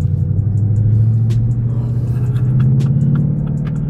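A 2015 Ford Mustang GT with the performance package rumbles with a deep, steady engine note at low revs as the clutch is let out and the car pulls away, close and loud.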